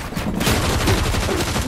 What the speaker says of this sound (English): Oh, be careful, there's a guy sniping.